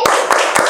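A group of schoolchildren in a classroom doing a thumb clap, three short, sharp bursts of clapping spaced evenly and heard up close with no talking.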